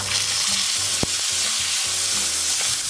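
Chopped onion, garlic and ginger fry in hot oil with a dense, continuous close sizzle, a single sharp clack of a spoon and faint stirring scrapes beneath, no voices.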